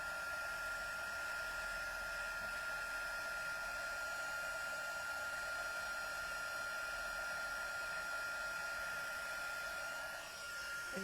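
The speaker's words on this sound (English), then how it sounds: "This heat tool is going to melt this embossing powder, making it shiny." A heat tool blows steadily to melt embossing powder on a stamped snowflake gatefold card, a constant close whirring hiss with a thin high whine, alone throughout.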